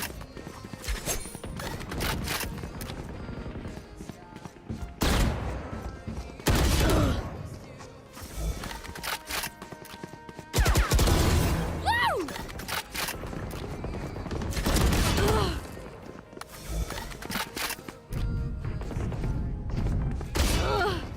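Repeated bursts of gunfire in the tactical shooter Valorant, loud volleys of shots spaced throughout with quieter gaps, mixed with game effects and occasional voices.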